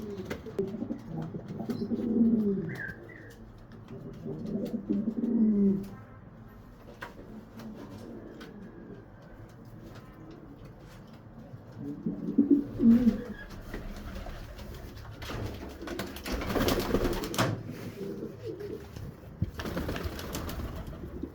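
Rolo pigeons coo in soft, throaty rounds, three distinct bursts a few seconds apart, with quieter murmuring and some rustling background noise between them.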